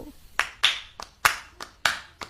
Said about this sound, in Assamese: বলকচোন একেলগে হাত চাপৰি বজাও